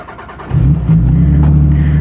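A 1990s manual-transmission car engine starts with a brief crank, then catches and settles into a loud, steady idle rumble close by.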